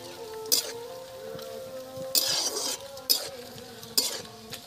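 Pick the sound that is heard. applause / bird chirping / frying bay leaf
frying bay leaf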